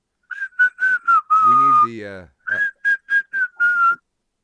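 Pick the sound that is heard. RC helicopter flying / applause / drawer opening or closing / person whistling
person whistling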